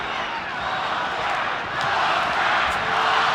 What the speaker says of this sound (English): Crowd already chanting Oscar, Oscar, Oscar.